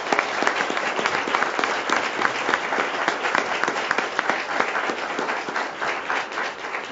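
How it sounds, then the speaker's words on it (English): An audience at a school board meeting gives a sustained round of applause, steady dense clapping from many hands, loud and even with no talk over it. "Let's give Elijah a round of applause"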